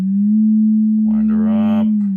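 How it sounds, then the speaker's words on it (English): A steady test tone runs through a 1960s Acoustic 260 guitar amplifier, holding one low pitch continuously and clearly, with a brief voice-like buzz rising over it partway through. "Let's take the sweep off and just get a steady state tone."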